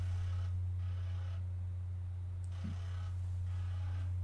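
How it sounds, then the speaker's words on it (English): A floppy disk drive on a Model I computer spins during an FTP file transfer, giving a steady low motor hum with soft whirring noise that swells and fades in broad patches, close by and alone. "I can hear the floppy spinning."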